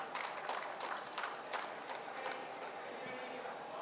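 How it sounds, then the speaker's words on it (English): Scattered audience applause at a hospitality expo in Bengaluru: moderate, irregular clapping from a medium crowd, steady throughout and fairly soft. "Let's give all of them a big round of applause as we move on."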